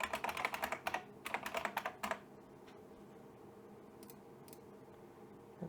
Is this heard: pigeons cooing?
no